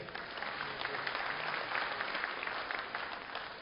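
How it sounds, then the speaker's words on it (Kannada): Steady applause from an audience, a dense wash of clapping that holds at an even level throughout, with no voices above it. "ನೀವು ದಯವಿಟ್ಟು ಇಲ್ಲಿ ಚಪ್ಪಾಳೆ ಕೊಡ್ಲೇಬೇಕು."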